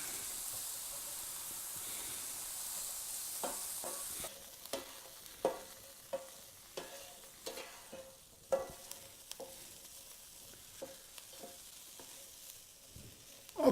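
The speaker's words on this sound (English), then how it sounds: "So I have here a 1/2 cup of chopped up bacon that I'm going to saute to get the grease out of it" Half a cup of chopped bacon sautés in a pan for chili, a soft sizzle under repeated scraping and stirring strokes that come in uneven bursts. The sizzle stays gentle and close, with no talking.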